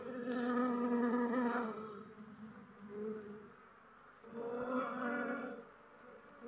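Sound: bees buzzing around beehives

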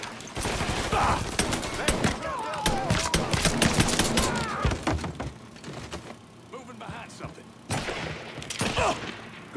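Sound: gunfire in the video game Mafia 3

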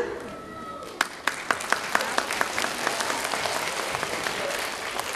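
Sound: audience applause at a ceremony

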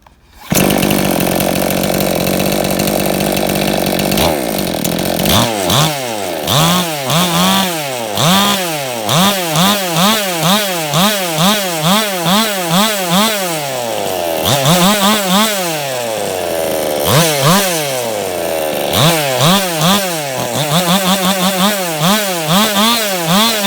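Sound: brush cutter engine fitted with chainsaw head running

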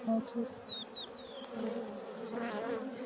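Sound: honeybees at beehives

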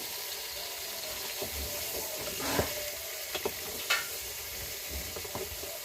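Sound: vegetables sizzling as they fry in oil with onions

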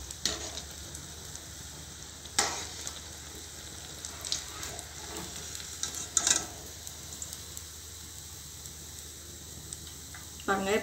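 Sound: paneer bread rolls frying in oil

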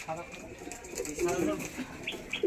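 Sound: pigeons cooing in a loft

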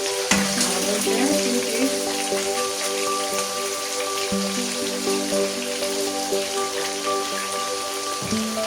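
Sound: fish frying in oil

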